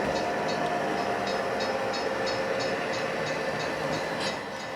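An HO scale model train led by four BN F-unit locomotives rolls through grade crossings on a model railroad, a steady, close rumble with a regular clickety-clack of wheels over rail joints.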